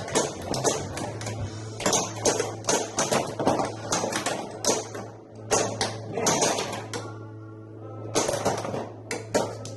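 Homemade pinball machine during multi-ball play, with a pop bumper repeatedly kicking the ball in rapid, irregular clacks and bangs over a steady mechanical hum, no talk.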